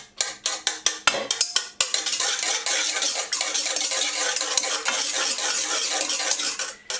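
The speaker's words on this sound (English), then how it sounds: "I'm just going to whip up just enough to get the yolks broken and mix it a little bit." Whole eggs are whisked in a bowl for brownie batter: a few sharp utensil taps against the bowl open into rapid, continuous, close-up scraping and clattering strokes, with no talk.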